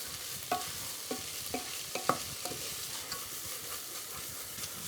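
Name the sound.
leftover cooked beef browning in a pan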